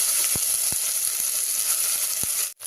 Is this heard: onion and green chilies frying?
yes